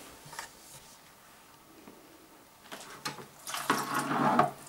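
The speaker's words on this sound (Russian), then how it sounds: "Теперь я аккуратно начинаю переливать сюда пиво, чтобы оно не насыщалось кислородом воздуха." Beer poured carefully from one vessel into another for priming before bottling, with a thin splashing trickle that swells louder and fuller toward the end, alone with no talk.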